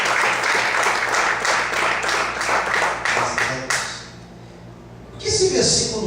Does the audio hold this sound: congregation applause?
yes